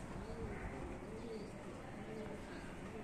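A hand-tame little fancy black pigeon coos softly in low, repeated rolling notes, faint and under a steady background hiss.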